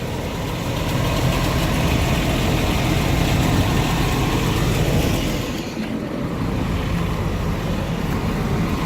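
A 2004 Freightliner refrigerated truck engine idles steadily and loudly up close, a continuous low diesel rumble with a brief dip near the middle and no talking.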